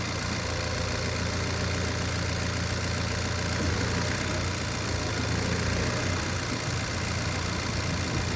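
Machine engine idling steadily during a pre-use inspection while its forward and backward tilt is tested, a constant loud low hum and rattle with no break.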